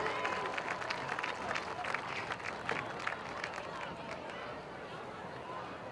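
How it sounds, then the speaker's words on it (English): Spectators clap at a football game ceremony honoring a school inductee, with a steady crowd applause of many hands and some scattered voices, fading slightly toward the end. "How about a nice round of applause for Derek Schaefer, class of 1992."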